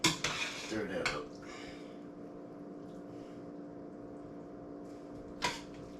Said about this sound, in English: A little clump there, I had to stir that up